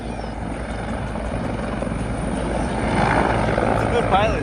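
Emergency rescue helicopter near the Cowles Mountain trail in Mission Trails, a loud continuous rotor thudding and engine roar overhead that swells slightly toward the end, with voices faintly underneath.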